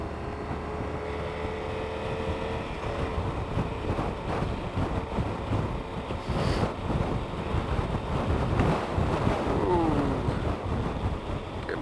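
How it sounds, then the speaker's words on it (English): Strong wind buffets a motorcycle rider's microphone on a Yamaha XT1200Z Super Tenere, a loud continuous roar with gusting surges that swells around the middle and stays heavy to the end. "It is rather windy."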